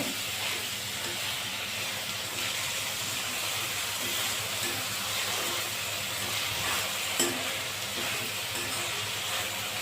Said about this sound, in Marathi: अगदी टमाटा मऊ होईपर्यंत परतणे